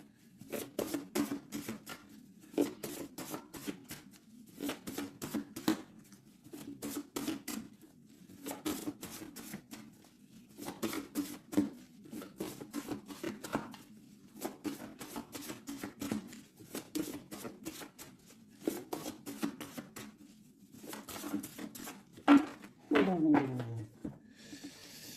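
A deck of tarot cards is cut and shuffled in repeated quick riffling bursts that fall into a steady rhythm over many seconds, with soft pauses between them, ending in a brief sliding sweep.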